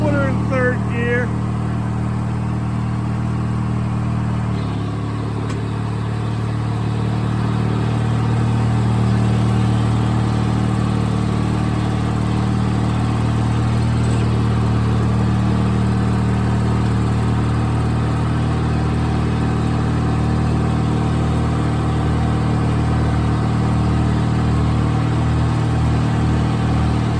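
A Craftsman II lawn tractor engine runs steadily throughout, a loud, continuous low hum and whir from close by, with a brief dip near the start before it settles into an even drone.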